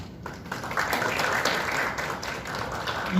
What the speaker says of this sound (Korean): 참석자들께서는 환영의 박수를 부탁드리겠습니다